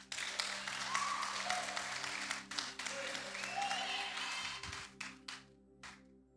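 A church congregation applauds during a worship service, with sustained clapping from many hands that fades into scattered final claps.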